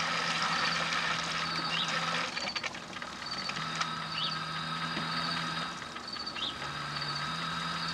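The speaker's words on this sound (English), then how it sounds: "So in there you can see the valve go to move." A pool valve shifts position during pool closing, giving a steady mechanical whir and hum with faint clicking and pitch changes as the motor drives it.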